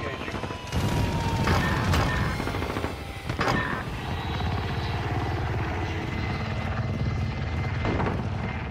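Video game helicopter rotor thudding loudly and continuously up close, with bursts of gunfire and explosive booms breaking over it during a multiplayer shooter match.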